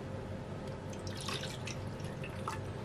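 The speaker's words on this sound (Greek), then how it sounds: "Σε ένα μπολ θα βάλουμε ένα ποτήρι νερό" A glass of water, about 200 grams, poured into a bowl for a sugar-water mix, heard as a steady close trickle and dripping splash lasting the whole time, with no voices.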